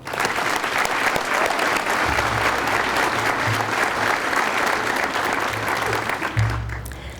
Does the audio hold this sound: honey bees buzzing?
no